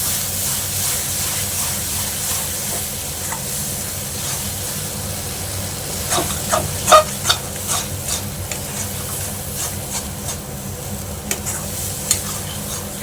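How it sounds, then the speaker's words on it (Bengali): A spatula scrapes and stirs mashed eggplant (begun bharta) frying in oil in a pan, a soft steady sizzle with sharper clustered stirring strokes in the second half, close and without talk. "এবার এটা ভালো করে মেশাতে হবে।"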